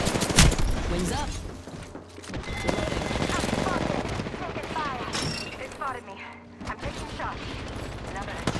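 Gunfire in an Apex Legends arena match, dense bursts of shots and impacts mixed with game effects, running under near continuous voice chat from players.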